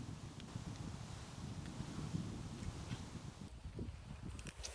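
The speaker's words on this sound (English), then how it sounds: "I wish this wind would die down a little bit" Steady wind buffets the microphone at a lakeside campsite, a continuous low rumble with faint rustling and a few soft knocks, nearby and fairly constant throughout.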